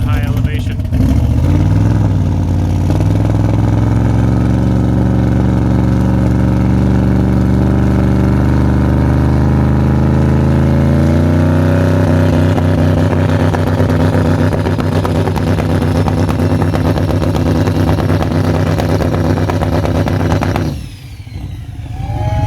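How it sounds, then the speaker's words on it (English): Cleetus McFarland's Mullet El Camino sits loud and close on its two-step launch limiter, a harsh, sustained, crackling engine drone that rises in pitch partway through and then cuts off abruptly near the end. "Cleetus McFarland two-step here"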